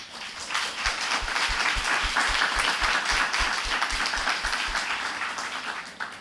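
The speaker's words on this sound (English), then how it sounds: "One more round of applause." Audience at a fisheries forum award ceremony claps steadily for about six seconds, a dense, even round of applause with a faint rhythmic low thumping beneath it, tapering off at the end.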